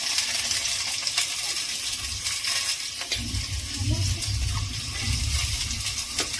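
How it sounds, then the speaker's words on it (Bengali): Chopped onion and vegetables frying in a pan for chicken pasta, a continuous close sizzle with occasional scraping and stirring clatters over the hiss. "দিয়ে দিচ্ছি পেঁয়াজ কুচো, একে একে সমস্ত সবজি দিয়ে সবজিগুলো আগে ভেজে নেব আমি"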